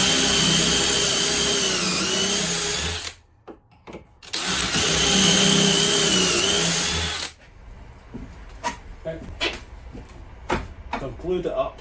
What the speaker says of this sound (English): Time to pocket hole it up and screw it all together.